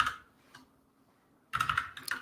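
Computer keyboard typing while a JavaScript web-development project URL is entered: a rapid burst of close, crisp key clicks, a pause of near silence, then a second, louder flurry of keystrokes.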